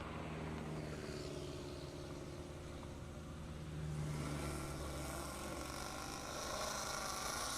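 Engines of a Camaro and a Cadillac CTS-V wagon drag racing at a half-mile airport drag strip in Indiana, a steady distant roar that swells louder partway through.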